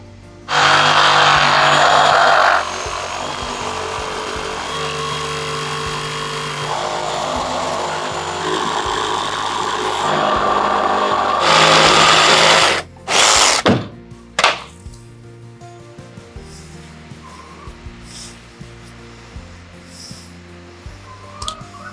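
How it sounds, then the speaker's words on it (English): A Sawzall reciprocating saw cuts through wood on a cabin roof eave, loud and steady for long stretches, then several short bursts and knocks as pieces come free before it falls quiet. "Do you want the Sawzall?"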